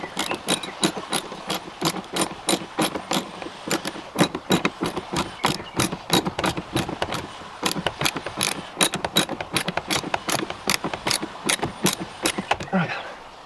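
Tightening a fitting on a koi pond pipe valve, a fast run of loud, regular clicking, ratchet-like strokes close up, continuing steadily for several seconds.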